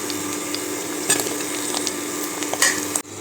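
Homemade black masala cooking in a pan as it is stirred, giving a steady soft sizzle with occasional scraping clicks and a brief louder scrape near the end, with no talking.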